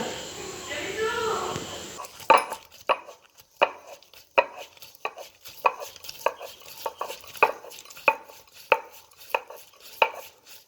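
Soaked lentils (dal) ground by hand on a stone, heard as a steady series of rhythmic scraping strokes about every half second. Talk is heard briefly before the strokes begin.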